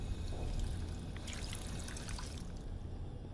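Water pouring and trickling in the post-apocalyptic video game Fallout 4, a soft, steady stream that runs continuously throughout with no speech.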